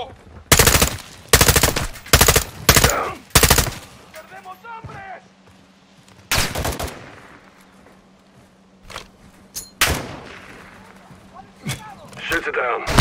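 Loud bursts of automatic gunfire from Modern Warfare 2 (2022), mission Recon by Fire in Realism Mode, fire in rapid clusters, then sparser single shots and a steady mechanical hum follow, with voices speaking between volleys.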